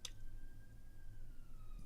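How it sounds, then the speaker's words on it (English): An ambulance siren passes at a distance, a thin steady wail holding faintly behind a low background hum, with a brief click at the start and near the end. "ambulance just went past"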